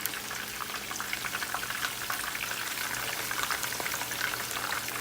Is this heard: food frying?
yes